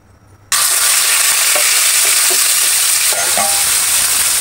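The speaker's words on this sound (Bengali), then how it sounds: "মাছগুলোকে সুন্দর করে হালকা তেলে একটু ভেজে নেবো আমরা" Hilsa fish, coated in salt and turmeric, hit a little hot oil with a sudden sizzle that continues loud and steady, with a few faint utensil clicks.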